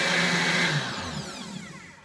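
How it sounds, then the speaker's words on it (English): A kitchen blender running on its smoothie setting, whirring loud and steady at close range and then easing slightly lower as it keeps spinning, with no voices over it. "My blender has a smoothie option, so I'm just gonna put it on."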